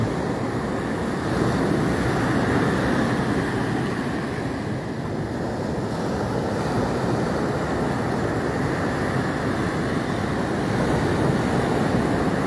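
Ocean surf at Sabang Beach rolls in as a steady, broad wash of breaking waves, mixed with some wind rumble, continuous and fairly loud with no voices.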